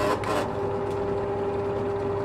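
A small engine just repaired after dyno testing starts and settles into a steady, continuous running hum with a sustained tone, close and fairly loud, with no talk over it.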